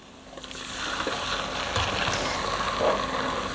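Pepper puree poured into a hot pan with onions: a soft start swelling into a steady, broad frying sizzle with light bubbling, close and moderately loud.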